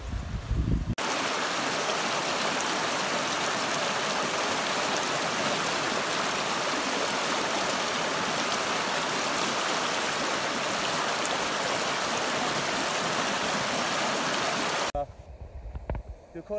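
A river flows steadily beside a suspension footbridge, a loud, continuous broadband rush of water that holds unbroken for about fourteen seconds before cutting off sharply near the end.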